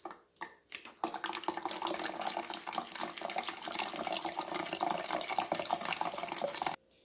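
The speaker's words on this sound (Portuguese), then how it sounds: "Agora aqui eu vou peneirar e retirar a semente" Guava juice poured and strained through a sieve to remove the seeds, a continuous splashing, trickling liquid flow for about six seconds after a few soft clinks, close and moderately loud, ending abruptly.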